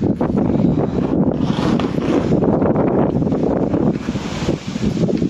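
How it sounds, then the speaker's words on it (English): Gale-force wind in the Scottish Highlands buffets the microphone in loud, rough roaring gusts that surge and ease without pause. "It's absolutely blowing a gale out there today."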